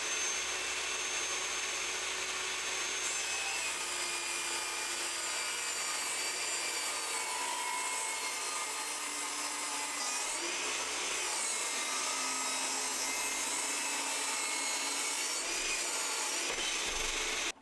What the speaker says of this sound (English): So I'm just going to rip a bit off 2 of these on the table saw.